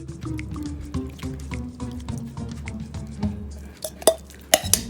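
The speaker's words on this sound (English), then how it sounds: "we're about to pour these sauce on top of this." Thick barbecue sauce, a mix of sweet Memphis and Eastern North Carolina styles, poured and scraped onto slow cooker pulled pork, with wet glugging, dripping and squishing, then a few sharp clinks of a utensil against the container near the end.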